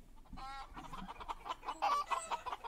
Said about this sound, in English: Let's see if they cluck in Russian.